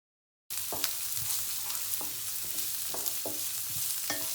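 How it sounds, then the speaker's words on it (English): Diced carrot and onion hiss and crackle in a pan for Thai fried rice, with several scraping strokes of a spatula stirring them every second or so. "Keep frying."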